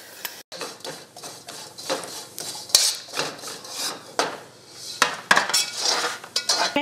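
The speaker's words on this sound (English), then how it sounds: "I'm going to add half of the sugar mixture and toss" Nuts being tossed with a sugar mixture in a pan while making candied nuts: a busy rattle and clatter of nuts and a utensil against the pan, with uneven bursts of scraping and clinking and short pauses between.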